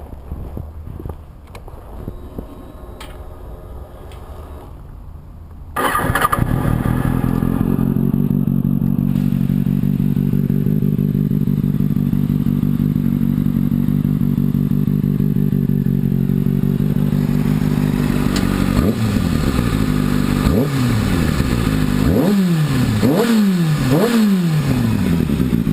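A 2007 Kawasaki ZX6R inline-four motorcycle engine starts up and settles into a loud, steady idle, then near the end is blipped with several sharp rising revs, heard up close with no talk.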